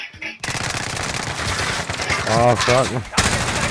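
Rapid automatic gunfire from a multiplayer shooter game crackles loudly and almost continuously in dense bursts, with a player's excited voice talking over the shots.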